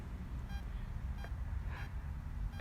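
A metal detector gives several short, faint electronic beeps while sweeping a target at a playground tot lot. The beeps come at irregular intervals over a low background rumble.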